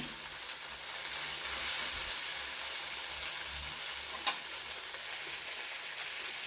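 Okra stir-fry sizzles steadily in a pan while it is mixed, with a continuous soft frying hiss, faint scraping and one brief sharp tap, no voices.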